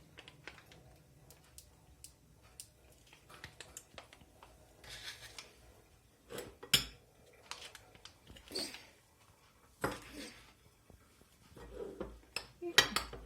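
A spoon mixes grated garlic, processed cheese and mayonnaise into a spread for a zucchini cake, making sparse, irregular light taps and clinks against the bowl, close and quiet, with near-silence between strikes.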